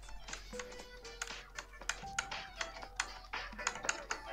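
Computer keyboard typing at close range during a cooperative game session, a steady run of irregular clicky keystrokes with occasional faint background tones, no talking.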